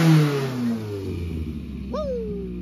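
A car engine revs just after being restarted following a battery problem, a loud close roar that falls back toward idle, followed by one quick rising rev near the end.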